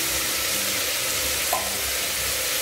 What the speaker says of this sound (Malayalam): ഒന്നുകൂടെ ഒന്ന് വഴറ്റും